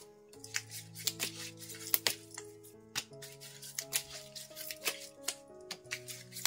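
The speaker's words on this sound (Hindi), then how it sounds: "तो शुरुआत करते हैं कार्ड शफल करके।" A tarot card deck being shuffled: quick riffling and flicking card sounds in repeated bursts, close up, with soft tonal music underneath and no talk.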